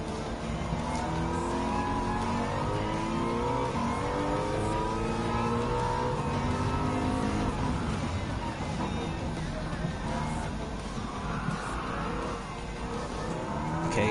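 Turbocharged sports car engine in a Gran Turismo 7 race on Grand Valley highway, a continuous loud rising and falling drone with shifting engine pitch, sustained for the whole stretch with possible faint tyre noise.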